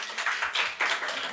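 Brief applause for the children at a Sunday school Christmas service in a Bandung church, a few seconds of scattered hand clapping in bursts, fairly close and moderately loud.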